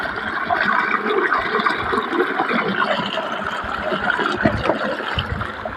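Water from an irrigation channel pours past a placed stone into a farm field planted with garlic and maize, a continuous close rushing gurgle.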